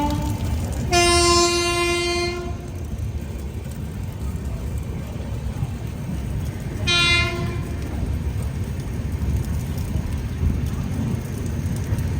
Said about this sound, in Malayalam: ഇത് മഡ്ഗാവ് മുംബൈ CST ജനശതാബ്ദി എക്സ്പ്രസ്